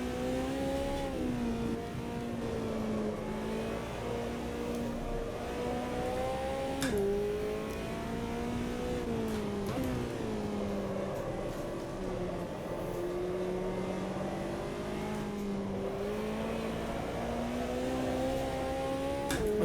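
A McLaren GT4 race car engine in the AMS 2 racing game at the Nürburgring GP circuit drones steadily, its pitch rising and falling through gear changes and throttle lifts, with no one talking.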